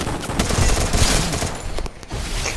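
Gunfire in the mobile battle game Free Fire comes as a dense, loud burst of rapid automatic shots filling the whole moment, with a brief dip near the end before the firing resumes.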